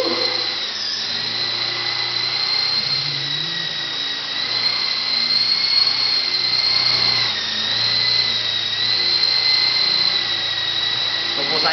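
A Lama V4 radio-controlled helicopter hovers indoors with a steady high-pitched motor whine and whirring rotors, close by and sustained, dipping slightly in pitch midway.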